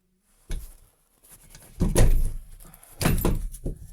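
Apartment door in Zhytomyr being forced and broken in, a series of heavy irregular bangs and scraping impacts with rattling in between, close and loud, separated by brief pauses.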